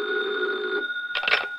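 Telephone bell ringing in an old radio detective drama: a loud, steady, continuous ring that breaks off briefly and then comes back in a short rattling burst.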